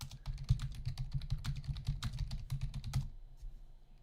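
Rapid typing on a computer keyboard, a dense run of close clicking keystrokes for about three seconds before it stops and leaves quiet room tone.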